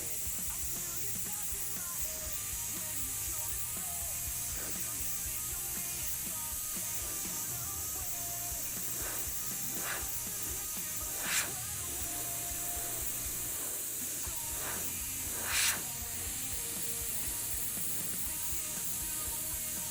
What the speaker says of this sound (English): bump the trigger back and forth, and walk that paint down the design